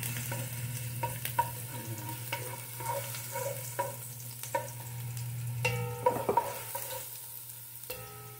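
Ginger sautéing in a pan as the start of ginisang mongo: a steady close sizzle of hot oil, broken by irregular scrapes and clinks of a spatula stirring against the pan, with no talk.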